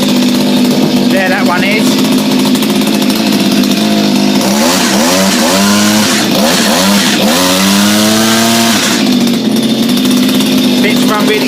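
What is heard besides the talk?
Honda HRB 476 lawn mower engine running after carb clean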